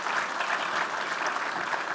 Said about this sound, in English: please join me in giving Ann a warm round of applause.